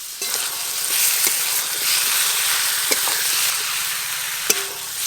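Chicken sautéing in spice masala for chicken kosha, a loud steady sizzle and hiss of frying with occasional spoon clicks against the pan, close up and with no talking.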